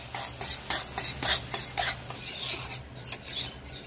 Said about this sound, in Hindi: अब इसमें हम सूजी ऐड कर देंगे। अब इसको बढ़िया से हम फ्राई करेंगे।